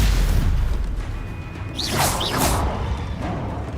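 Spell blasts in Hogwarts Legacy, a low booming rumble followed by rising whooshing swishes and bright magical zaps, loud and close, with no talk over them.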